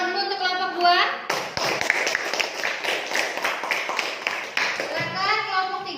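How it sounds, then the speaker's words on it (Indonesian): A classroom of middle school students claps for a presenting group, a burst of mixed hand claps that starts abruptly between stretches of a teacher's voice speaking before and after. "Ya, tepuk tangan dulu untuk kelompok"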